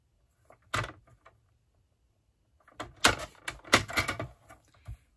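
Card paper for a sympathy card is trimmed on a paper cutter: a single sharp slicing thunk, a pause, then a cluster of quick clattering cuts and handling noises, close and clear with no talk.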